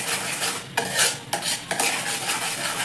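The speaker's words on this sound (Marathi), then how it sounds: "असं हलवून हलवून गोळ घ्यायचा" Sweet shev dough with fennel and ajwain seeds being stirred and worked in a metal pot, giving steady scraping and clattering with a few sharper knocks, close up and without talk.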